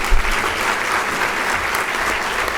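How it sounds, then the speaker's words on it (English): Clapping from an awards-ceremony audience rises and holds for a couple of seconds, a full, even wash of applause from the room. "Hold the applause."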